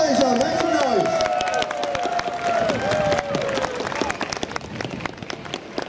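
An audience claps and cheers at a Halloween dance show in Sheffield, with steady applause and scattered shouts under an announcer's voice calling out over a loud, reverberant hall.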